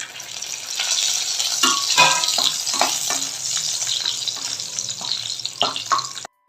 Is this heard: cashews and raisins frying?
yes